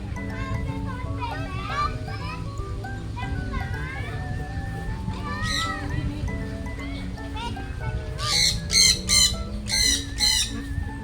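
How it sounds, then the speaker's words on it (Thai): Loud squawking quacks burst in a rapid series near the end, following a stretch of children chattering in a busy outdoor setting. "เป็ดร้องไง"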